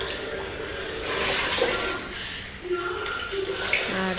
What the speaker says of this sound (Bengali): সেই নাইটিটাকে ভালো করে জল দিয়ে ধুয়ে কেচে নিচ্ছি দেখো।